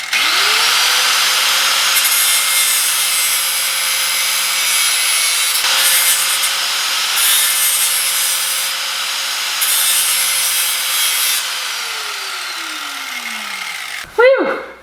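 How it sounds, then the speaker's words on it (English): An angle grinder shaves down a metal tab on the frame of a Honda Civic being prepared for its first start, a loud steady whine held for about twelve seconds before winding down, then a short rattle at the end. "I just need to get my angle grinder and shave a little bit more of this tab off."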